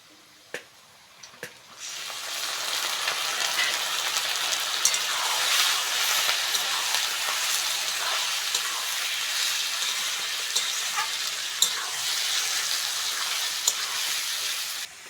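Chicken pieces hit a pan of lightly fried onion, a couple of clunks giving way to a loud, dense, steady sizzle that runs on without talk.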